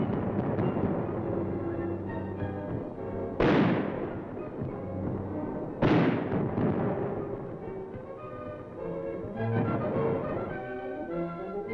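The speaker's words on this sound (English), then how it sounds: "mortar crews have set up their weapons and are lobbing shells at the Viet Cong, who have laid down a heavy mortar barrage" A mortar barrage in combat against the Viet Cong: two heavy, booming shell blasts a couple of seconds apart rise over a continuous musical score, with fainter rumbling later on.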